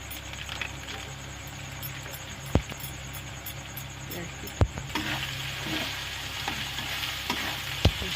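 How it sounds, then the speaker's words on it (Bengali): Spices with turmeric and Kashmiri red chili powder are stirred and fried in a pan for a lote fish curry, with a soft continuous sizzle and three sharp knocks of a utensil against the pan. "ভালো করে কষে নেব"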